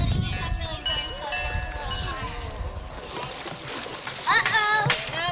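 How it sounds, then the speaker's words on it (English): Kids splashing water outdoors in cold spring water, with repeated splashes and sloshing under lively children's shouts and chatter throughout, several voices talking and yelling over the water. "No, Billy, don't splash grown-ups."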